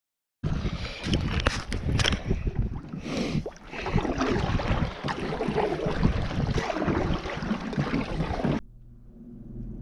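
A kayak moving across Duck Lake in British Columbia on a windy day, with heavy, continuous wind buffeting the microphone and water and hull noise beneath it. The sound stops abruptly near the end.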